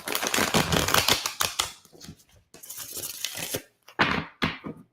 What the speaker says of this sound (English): That was a short shuffle.